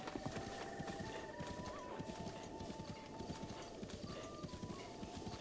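Horse hooves clip-clopping at a steady gallop in a Zelda video game, a continuous rhythmic drumming of hoofbeats under a steady music bed, no talk.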